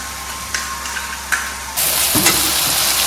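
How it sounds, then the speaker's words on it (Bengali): Poppy seed and cashew paste hits hot oil and bursts into a loud, steady sizzle midway, with a few spoon taps and scrapes before it and a louder stirring scrape just after. "খুব ভালো করে কষিয়ে নিতে হবে যতক্ষণ না পর্যন্ত তেলটা পুরোপুরি ছেড়ে আসে"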